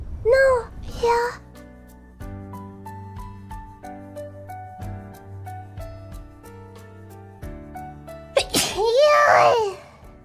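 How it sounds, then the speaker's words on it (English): A close, loud sneeze from a VTuber character near the end, preceded by a short high voice burst and background music with sustained tones. "Finally, you sneezed."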